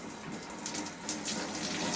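Water runs steadily from a tap while a toddler's hair is being washed, a close, continuous splashing rush that grows slightly louder toward the end, with no voices.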